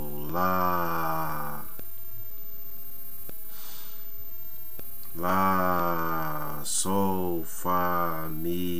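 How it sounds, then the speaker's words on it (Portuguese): A sung solfège exercise: phrases of steady sung notes, broken by a noisy, emphasised breath drawn in during the pause before singing resumes with short phrases. "Estou enfatizando aqui esta puxada de respiração"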